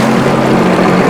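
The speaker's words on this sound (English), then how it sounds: "I hit the starboard engine start button" A Sea Doo Islandia boat's starboard engine fires up nearby, a loud, dense roar with a steady low hum sustained throughout the short burst.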